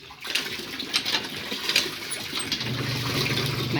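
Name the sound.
water being scooped and poured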